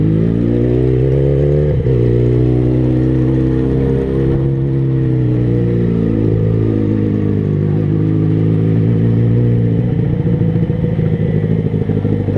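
A motorcycle rides up a busy hillside area at Horto do Padre Cícero in Juazeiro do Norte. The engine drones loudly and up close, with shifting revs and some mechanical clatter, and no voices.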